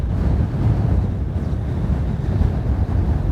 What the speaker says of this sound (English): We have very strong wind today.